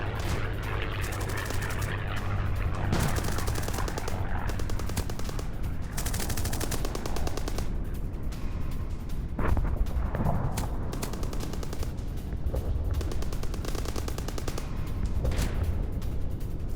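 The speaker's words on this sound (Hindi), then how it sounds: "रूसी ट्रेंच में घुसकर यूक्रेन की फायरिंग।" Ukrainian forces storming a Russian trench in Donetsk, with loud, continuous machine-gun fire and scattered single gunshots in dense bursts throughout, sharp nearby cracks standing out over a constant battlefield roar.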